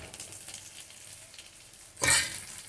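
Ground turmeric paste and spices, ground on a grinding stone for chicken curry, sizzle softly in a pan, then a sudden louder burst of frying and stirring near the end, close by with no talking.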